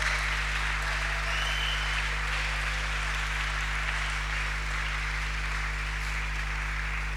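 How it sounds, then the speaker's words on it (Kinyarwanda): A church audience at a prayer gathering breaks into dense, sustained applause, a steady wash of clapping that holds at an even level throughout. "Come on, let's clap for Reka them."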